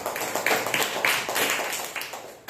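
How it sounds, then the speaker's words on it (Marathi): Fifth-grade schoolchildren clapping in a classroom farewell, a crowd of small hands patting in an uneven, moderately loud patter that fades near the end. "टाळ्या वाजवा."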